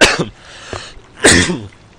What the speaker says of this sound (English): I do have somewhat of a cough left